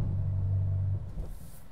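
A Ferrari 12 Cilindri V12 idles with a steady low hum that drops away about a second in as the stop-start system cuts the engine, leaving a quieter, rumbling background.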